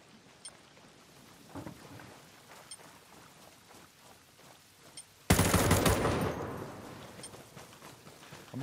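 Gunfire in a shooting video game, with a quiet stretch of faint crackles and a distant pop, then a sudden loud burst of rapid fire that fades gradually, with no voices.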